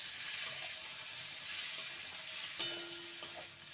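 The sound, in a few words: stirring kundri (ivy gourd) in a pan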